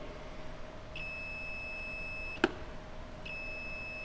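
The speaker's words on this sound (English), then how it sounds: "The buzzer sound, which means it's connected." Two steady electronic beep tones from a continuity tester buzzer, each lasting over a second, with a short sharp click between them, against a low background hiss.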